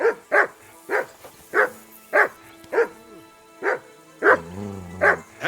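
In Kingdom Come Deliverance 2, a dog barks repeatedly and rhythmically, about ten close, loud barks with brief pauses, while a low voice murmurs briefly near the end.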